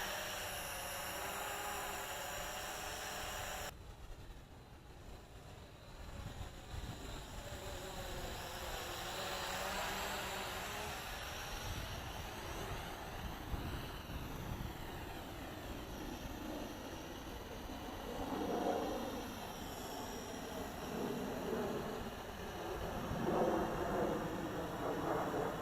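A URANHUB SP500 drone flies and hovers, its faint, steady whirring drone continuing throughout with slight swells in level, heard at a distance with no voices.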